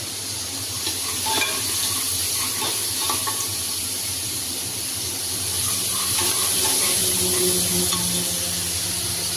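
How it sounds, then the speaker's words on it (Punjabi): Onions frying in a pan for a jackfruit curry, a steady close sizzle with occasional stirring scrapes throughout, no talking. "ਇੱਧਰ ਸਾਡੇ ਪਿਆਜ਼ ਫਰਾਈ ਹੋ ਜਾਣਗੇ"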